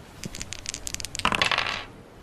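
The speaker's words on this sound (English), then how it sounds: "The dice roll now determines who receives the eternal chain link." Dice rolling in a dungeon video game, a rapid clatter of small hard clicks that builds into a denser rattle and then fades out within about two seconds, with no voices.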